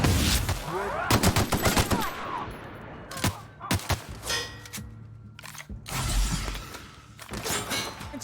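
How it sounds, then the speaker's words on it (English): Video game gunfire crackles in rapid bursts and volleys, loud sharp shots clustered early then spaced out with brief pauses, fairly close and dense with no talking over it. "It's dangerous shooting without the slow-mo."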